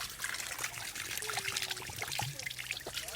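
Cold water trickles and splashes steadily from a drinking fountain at a mountain monastery in Armenia, a continuous close, moderately quiet babble with no pauses and no talking.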